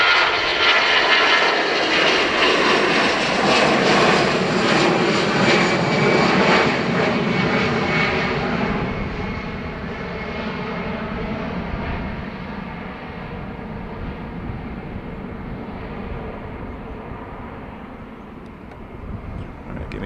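A China Eastern airliner departs Dublin Airport's runway 28R, its jet engines producing a loud, sustained broadband roar that swells early and then slowly eases as it climbs away.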